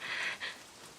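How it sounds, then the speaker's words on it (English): Heavy rain pours in an animated horror series, a brief, soft hiss of falling water that swells and dips in two quick surges. "the rain's totally gotten worse"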